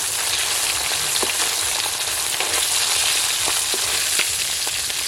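Fish frying in a pan with a steady, dense sizzle close by, with occasional soft clicks and stirring taps throughout and no talking.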